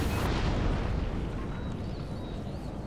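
Artillery fire in Empire: Total War, a loud sustained roar of booming cannon blasts and rumbling explosions that blend into one continuous wall of sound.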